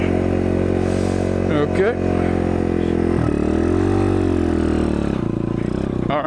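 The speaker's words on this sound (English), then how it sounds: "I don't know what gear you're supposed to be in for a rolling burnout. I'm gonna try second." Dirt bike revving hard in second gear during a rolling burnout, a loud, close engine whine that climbs and falls, with brief talk over it.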